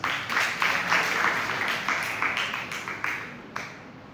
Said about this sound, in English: please welcome Tehreem Fatma from class 11B with your loudest applause